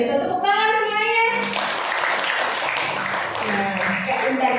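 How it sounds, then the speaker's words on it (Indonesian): A group of junior high school students at SMPN 9 Surakarta clap together in a short burst of applause, with voices heard at the start and again as it ends. "tepuk tangan semuanya"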